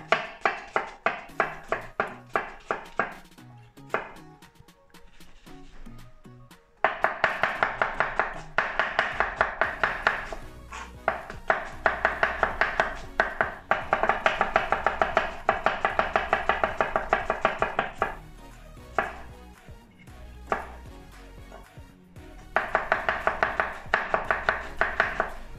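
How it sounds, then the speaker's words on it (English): Knife chopping onion on a board for Turkish sarma stuffing, a close run of rapid, sharp, evenly spaced taps with brief pauses between bursts, with no talk. "And then I'm chopping the onion."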